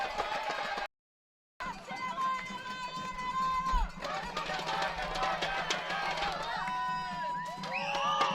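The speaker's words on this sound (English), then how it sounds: "The crowd is making its presence known." Crowd noise at a 2015 soccer match between Laredo Heat and Mississippi Brilla, a steady murmur of shouts and cheers under continuous commentary, with a brief dropout near the start.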